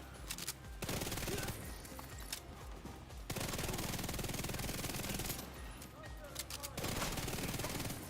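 SMG fire in The Division 2 comes in sustained rapid bursts of gunfire broken by brief pauses, dense and continuous, with faint talk mixed in.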